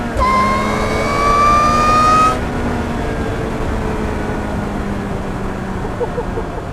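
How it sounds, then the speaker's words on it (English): Supercharged Ariel Atom 3R, 300 horsepower, with a loud rising intake roar and high supercharger whine for about two seconds, then a steadier lower engine drone as it settles. "the sound of the intake opening behind you and the supercharger whine, insane"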